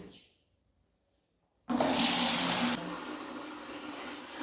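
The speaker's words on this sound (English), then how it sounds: "this is the bag we are going to be putting the pap for all the water to drizzle out from the pap" Water pours out of a bag of fermented corn pap (ogi) in a home kitchen. After near silence it suddenly gushes loudly and close, then continues as a steadier, somewhat softer flow.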